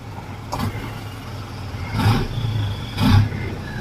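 An Isuzu FRR190 truck engine, fitted with an electronic throttle box set to F mode, rumbles at idle and then revs up sharply three times, with short roaring bursts close by.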